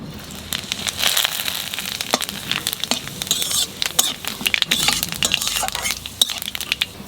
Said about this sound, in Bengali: তেলের উপর দিয়ে দেবো জিরে আর তেজপাতা